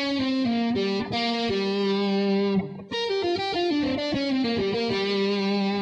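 A distorted electric guitar plays a blues pentatonic lick of bent notes and quick phrases, loud and close, with no voice.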